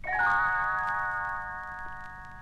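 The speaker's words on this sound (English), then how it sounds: "You will know it is time to turn the page when Tinker Bell rings her little bells like this" A light electronic chime of little bells rings out once as a read-along page-turn signal, then fades away, gentle and clear.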